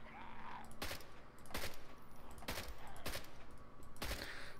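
AK-74U gunfire in the video game Contagion, a handful of separate sharp shots spaced irregularly over a rumbling background, fairly faint and without speech.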